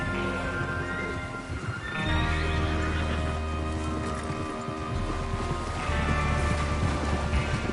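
Horses in Red Dead Redemption 2 whinny and snort over a steady hoofbeat clatter and wind-like rumble, with a louder neigh partway through and again near the end.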